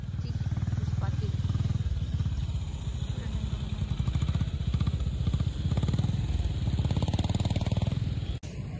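A motorcycle engine runs steadily and close at parking on the way into Nandhi Hills near Bangalore, a continuous low rumble with rattling texture, cutting off abruptly near the end as voices talk over it.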